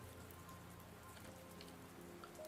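Light rain patters steadily and faintly on a surface, mixed with soft classical music, with no voices over the low, even wash.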